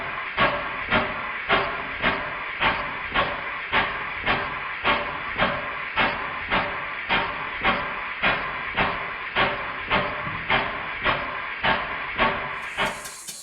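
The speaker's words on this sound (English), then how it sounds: "I can now turn on the compressed air supply" A Stuart 5A model steam engine runs on compressed air with a steady, even chuff, about two exhaust beats per second repeating clearly and loudly at close range through the whole stretch, with hissing between beats.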